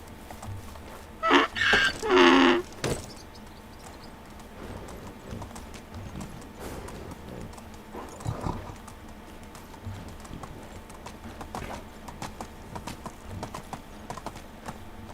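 Horse hooves clop in the video game Medieval Dynasty, with a loud burst of sound early on and then lighter, scattered hoofbeats over quiet background noise.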